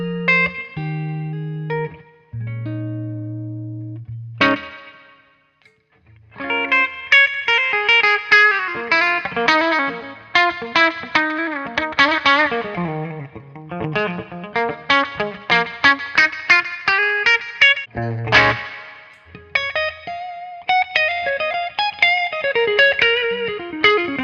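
Guitar played through the clean channel of an AmS Alpha 50 amp with its built-in reverb: a few sustained low notes, then a long run of ringing, fast-picked clean arpeggios with a reverberant tail, loud and up close.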